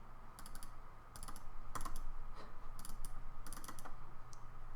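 Bursts of quick mouse clicks while moving items around a Minecraft 1.16 survival inventory, coming in several short clusters over a steady low hum, close and fairly quiet, with no talking.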